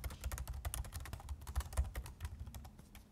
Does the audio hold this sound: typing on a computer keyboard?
yes